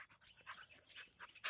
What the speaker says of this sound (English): Just showed up with another dog